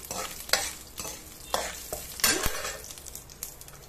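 Mustard seeds and lentils fry in hot oil, a crackling sizzle broken by repeated stirring scrapes in an uneven rhythm, close and moderately loud, with no speech.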